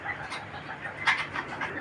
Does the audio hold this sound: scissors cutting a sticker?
no